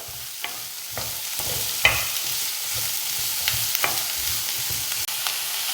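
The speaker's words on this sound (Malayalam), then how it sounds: "സവാള ഇട്ട് നന്നായിട്ടൊന്ന് വഴറ്റിയെടുക്കാം." Chopped onions, two medium ones, sautéing in a pan for an egg curry, with steady close sizzling and frying, broken by a series of scraping stirs from a spatula.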